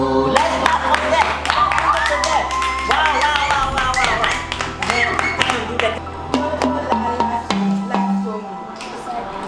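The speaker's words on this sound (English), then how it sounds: "Let's clap for that!" Children clap in a classroom music session, a scattered run of sharp hand claps mixed with tonal ringing and voices for several seconds.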